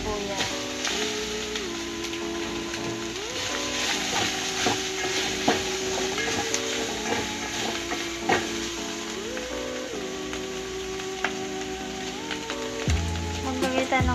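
Garlic and onion sizzle loudly in oil in a pan where beef is cooking, a dense, steady crackling hiss that fills the whole stretch with scattered sharper pops and a faint tonal layer underneath.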